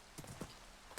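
Horse hooves clip-clopping in Minecraft, a few light, faint steps followed by one louder, closer hoof thud at the end.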